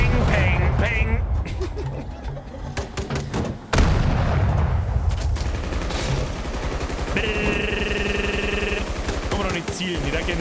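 Heavy gunfire from Battlefield 2042 roars almost without pause, with dense bursts and booms from a loud, close firefight while someone talks over it.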